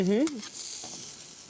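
Airline chicken sears in a hot pan with a steady broad sizzle, close up, following a brief tonal sound at the very start.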